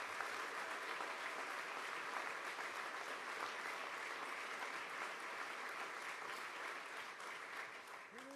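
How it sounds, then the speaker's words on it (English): Sustained audience applause at a Wisconsin bill-signing event, steady and dense for the full length, with a voice starting to speak faintly at the very end. "So let's give a big round of applause to our higher education."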